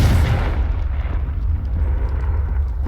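A Confringo fire spell blasts off in Hogwarts Legacy, a dense, loud rumbling explosion that stays heavy and boomy throughout with no voices over it.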